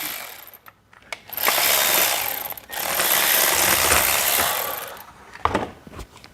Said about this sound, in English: I'm gonna take my little 1/4" drive ratchet. I'm gonna get up here and pull this one bolt out.